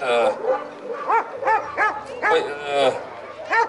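Yakutian laika hunting dogs bark repeatedly in quick, sharp, fairly close bursts at an outdoor dog trial, with someone talking over the barking throughout.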